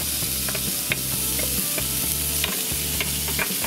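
Ground meat stir-frying in oil over medium heat, a constant sizzle punctuated by repeated scraping and tapping strokes of a spatula against the pan, close up and without speech.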